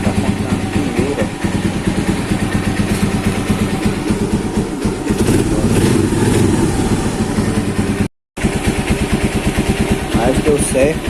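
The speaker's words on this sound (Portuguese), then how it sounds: "a moto já está pegando" A motorcycle engine, recently repaired after a strange noise from the gearbox, runs steadily at close range with a throbbing low rumble, a few revs rising and falling, and someone speaking over it.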